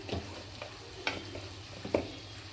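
Chili powder frying into a Telangana-style mutton curry with cucumber, a soft continuous sizzle under a few separate scrapes and taps of a spoon stirring the pot.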